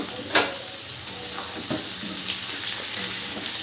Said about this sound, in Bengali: এইভাবে কাঁঠালটাকে আমি প্রায় 5 মিনিট ভাজবো